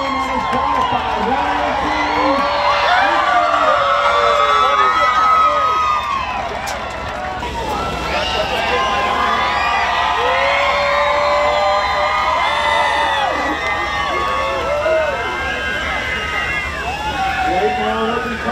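An outdoor crowd at a fishing tournament weigh-in on the Maryland coast cheers, whoops and shouts in sustained waves, loud and close, while people talk throughout.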